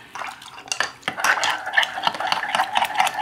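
Ingredients for unicorn conchas are blended in a bowl with a utensil, irregular close scraping and clinking strokes in quick succession, no voices.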